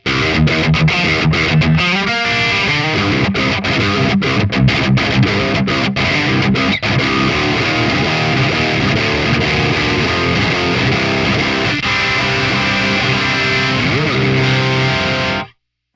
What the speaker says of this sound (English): That's with the overdrive, that's the opaque drive on the clean channel.